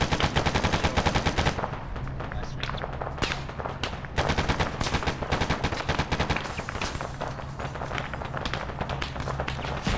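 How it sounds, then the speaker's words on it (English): Dense automatic gunfire fills an Arma battle, a loud, continuous stream of rapid shots with overlapping bursts and no pauses. "just start shooting bullets in the direction"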